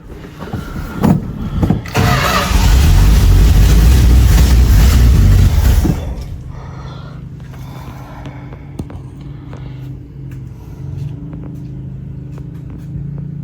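A 1978 Dodge D150 truck engine, left sitting 20 years and with a broken exhaust, cranks and roars to life loudly, runs hard for a few seconds, then settles into a rough, lower idle with some clanks.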